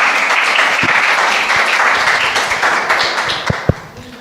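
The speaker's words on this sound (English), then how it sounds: "Please, a big round of applause, please." Audience applause at a conference session on human mobility in national adaptation plans, greeting Guatemala's Vice Minister of Environment and Natural Resources: a steady wash of many hands clapping throughout, with a couple of sharper taps near the end.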